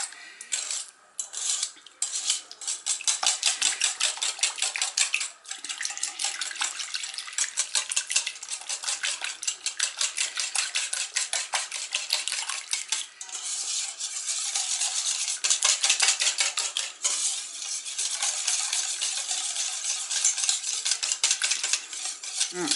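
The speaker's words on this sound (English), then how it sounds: "all I'm going to do is just roughly mix it up" A whisk rattles quickly and continuously against the sides of a bowl as seasoning is roughly mixed in, a close, busy metallic scraping that carries on for about twenty seconds with brief pauses.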